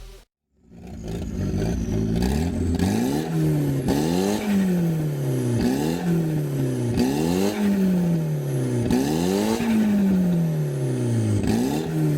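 A 4G63 turbo engine car with no exhaust fitted, revving repeatedly and loudly, each rev rising and then dropping in a rhythmic pattern, close by and alone after a brief silence at the start.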